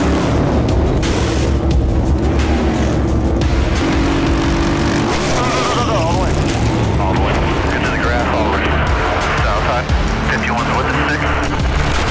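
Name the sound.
race cars crashing into the wall in a pileup at Talladega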